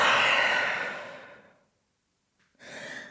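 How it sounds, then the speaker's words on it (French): A long, deep exhaled breath during a downward dog yoga pose in a gentle vinyasa session, fading over about a second and a half, then silence and a second, shorter breath starting, close and soft, with no talking. "Grande respiration en chien tête en bas."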